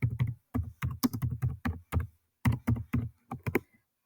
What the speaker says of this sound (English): For uppercase letters, you hold down the Shift key and start typing.